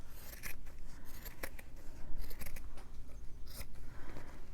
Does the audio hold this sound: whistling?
no